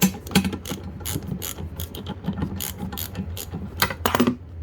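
A breaker bar ratchet loosening a bolt on the slide of a 2004 Country Coach RV clicks in quick uneven bursts of metallic pawl ticks, close and fairly loud, with no talking.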